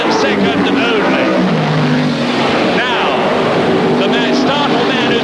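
Saloon race cars from 1971, including a 2.5-litre Vauxhall Viva GT and Ford Escorts, blast past on the circuit with loud, rising and falling engine snarls. Commentary runs over them throughout.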